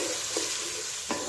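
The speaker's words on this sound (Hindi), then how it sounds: "और ये हमारा तड़का जो है वो रेडी हो चुका है।" Tempered spices for a mixed vegetable pulao sizzle in hot oil in a pan, a steady close crackle with brief stirring scrapes.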